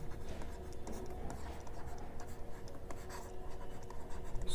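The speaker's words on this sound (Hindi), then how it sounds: "तो यहाँ पे लिखेंगे रवि और" Writing on a board during a Class 10 maths lesson on real numbers produces continuous close scratchy strokes and taps, steady and moderately loud, with no talking.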